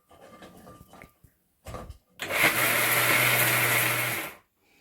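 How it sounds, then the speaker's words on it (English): An electric blender grinds leftover bread into a paste, beginning with a few short bumps and clatters, then a loud whirring run of about two seconds that stops abruptly; no talking. "I'm just going to add it to this blender, which I have anyway, and I'm going to make it into a nice workable"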